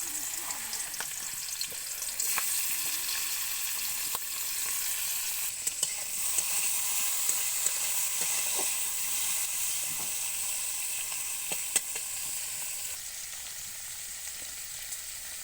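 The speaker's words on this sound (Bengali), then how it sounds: "তেল গরম হয়ে গেছে, মাছগুলোকে দিয়ে দেবো।" Salted, turmeric-coated prawns fry in hot oil, giving a steady close sizzle and crackle with occasional sharp pops, continuous and alone without talk.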